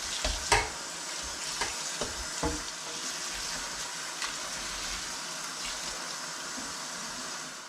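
Raw wild game meat rinsed under running water in a strainer, a steady close wash of flowing water with a few sharp splashes and clinks near the start and no talking.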